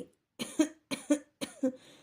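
A woman reciting a Bengali poem performs a dry cough: three distinct coughing bursts in quick succession, close and clear against silence.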